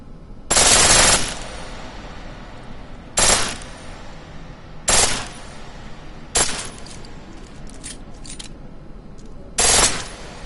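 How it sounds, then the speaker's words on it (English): Pistol firing in full auto in Deus Ex: Mankind Divided: five short loud bursts separated by pauses of one to three seconds over a low steady background hum, no talking. "The pistol in full auto will take down targets fast, but it'll burn through your ammo."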